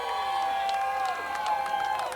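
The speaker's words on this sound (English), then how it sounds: "It's like there's a little bit of fans and some jeers behind each guy here." Wrestling show crowd at a TSW event in 2001, a busy murmur of mixed cheers and jeers with scattered claps and shouts, heard steadily under a loud sustained tone.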